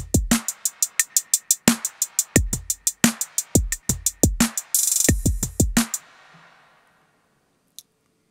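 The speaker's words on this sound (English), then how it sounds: "then we made a pattern with the test kit that sounds like this." A drum pattern programmed from a Maschine test kit plays as sharp, evenly spaced electronic hits with kick thumps and clicky percussion, a brief noisy burst near the end, then fades to silence with one last tick.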